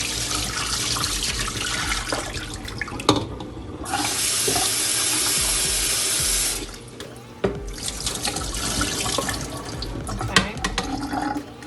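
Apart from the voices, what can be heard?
rinsing soaked beans under running tap water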